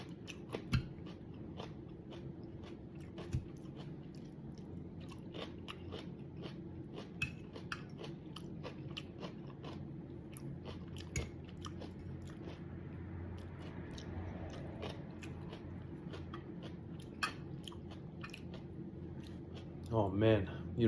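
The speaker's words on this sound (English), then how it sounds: "Also eating the kimchi." Kimchi being chewed as the first food after a seven-day water fast, with close, repeated crunchy bites and wet mastication over a steady low background, followed by a brief louder rustle at the end.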